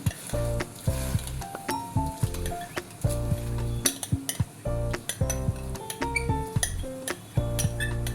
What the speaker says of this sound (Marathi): आता ही धुवून घेतलेली भगर आपण या फोडणीमध्ये घालून घेऊ